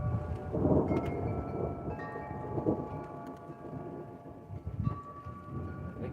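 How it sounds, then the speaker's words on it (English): Steady rain falls through a storm on the Oregon coast at night, a continuous broadband wash with low rumbling swells, loud and close throughout with no talking. "There is rain. I do hear rain."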